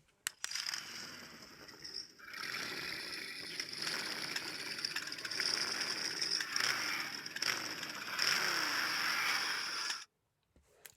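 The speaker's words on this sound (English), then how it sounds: "So first off, you've got the traditional motorbike sound." A Mezco Ghost Rider toy figure plays its motorbike sound effect: a steady, gritty electronic engine rumble held close for about ten seconds, with no talking, then cutting off abruptly.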